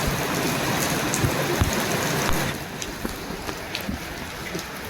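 Steady rain pours down in a continuous hiss with scattered drips and patters, loud at first and then easing to a softer, lighter fall partway through; no one speaks.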